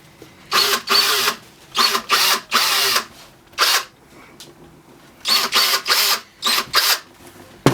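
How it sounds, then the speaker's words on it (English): A power drill cleans out a cut in a small plastic model trailer hitch adapter, running in repeated short bursts of whining, grinding spins separated by brief pauses, close and loud with no talk. "I'll clean out the rest of it with the drill."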